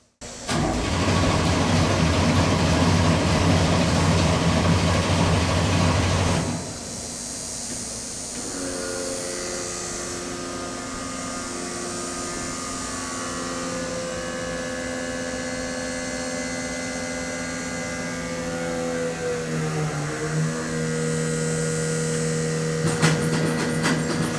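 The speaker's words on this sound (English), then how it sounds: "we're gonna do a cold start on it" Hot rod engine with a radical solid roller cam, cold started and idling: a loud cranking burst for several seconds, then a steady throbbing idle that shifts slightly in pitch, with a few sharp clicks at the end.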